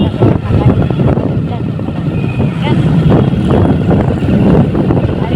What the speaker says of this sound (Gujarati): ઠંડો ઠંડો પવન હાલે છે